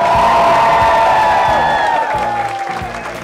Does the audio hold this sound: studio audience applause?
yes